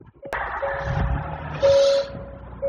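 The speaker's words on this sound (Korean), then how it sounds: "시동 한번 걸어볼게요" A Hyundai Grandeur IG or Kia K7 with about 158,579 km starts up: a brief crank burst, then a steady low idle hum with a thin whine, close by and moderately loud, with no talk.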